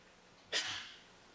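A single sneeze in a courtroom during trial testimony, one sharp burst that trails off quickly against a quiet background.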